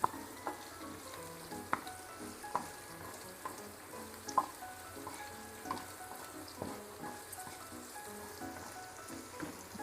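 Salted okra pieces fry in a pan for an okra buttermilk stew, with a soft, continuous sizzle broken by scattered sharp pops and crackles, fairly quiet and close.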